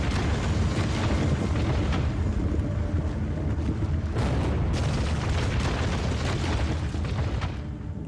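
The Fat Man atomic bomb, a 22-kiloton blast over Nagasaki, as a massive, sustained roaring rumble with deep booming surges that stay loud throughout and shift in texture midway.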